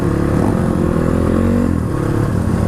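Dirt bike engine labouring up a steep uphill trail during an off-road ride, a steady loud mid-pitched drone with revving swells and a rattly clatter throughout, close and continuous with no talk.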